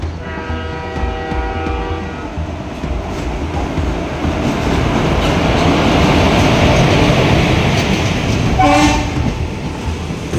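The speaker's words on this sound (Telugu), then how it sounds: "రైల్వే స్టేషన్కి వచ్చిన తర్వాత ఫస్ట్ ట్రైన్ ఇది." The Lingampalli–Narsapur train passes at a railway station. A horn sounds near the start, then a loud, close rumble of rolling wagons builds and holds, with a brief squeal toward the end.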